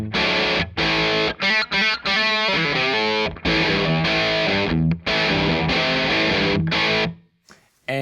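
Electric guitar through a Red Witch Famulus distortion pedal with only its gain A circuit active, loud fuzzy chords and riffs with short stops between phrases, ending in quiet noise.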